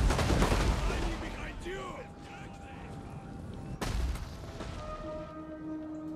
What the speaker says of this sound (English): let's try sending some shots into the middle here, where we're going to attack first